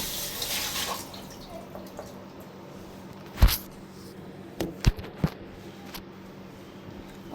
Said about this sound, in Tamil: பெரிய ஜாரா இது 1 or 2 times வாஷ் பண்ணிக்கோங்க